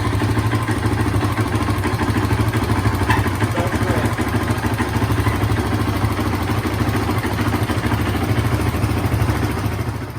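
A 2006 Honda TRX450ER ATV engine runs steadily after a valve adjustment, a close, even single-cylinder thrum with a fast mechanical clatter that holds for the whole stretch, no talking.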